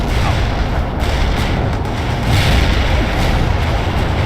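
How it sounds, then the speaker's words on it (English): An artillery strike in the real-time strategy game World in Conflict produces a dense, continuous rumble of distant booming explosions, heavy and loud throughout with no clear breaks between impacts. "Artillery strike is in."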